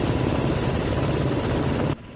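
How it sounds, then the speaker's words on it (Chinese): A search-and-rescue helicopter flies over open sea off Penghu, hunting for missing crew from an abandoned cargo ship: a loud, steady rotor-and-engine roar that fills the clip, then cuts off abruptly near the end. "直升机伫空中咧飞，继续找人。"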